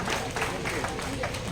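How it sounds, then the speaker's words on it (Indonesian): At an outdoor rice-planting ceremony, an audience gives a brief burst of dense, crowded applause with a voice talking over the clapping. "Beri tepuk tangan yang meriah."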